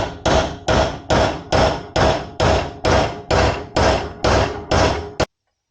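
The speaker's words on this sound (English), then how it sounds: "I'm going to have to hammer on this thing for a little while just because it is so stuck in there." Repeated metal hammer strikes drive a stuck swingarm bearing seal out of a Harley-Davidson round swingarm, about a dozen loud, evenly spaced blows in a steady rhythm, close up and alone.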